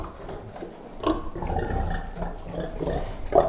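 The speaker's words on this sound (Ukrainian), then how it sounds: "Маленькі свинки, ну як, молоді свинки, первістки." Young first-litter pigs on a farm, Landrace crosses, grunt and snort close by in short uneven bursts, with one louder squealing grunt near the end.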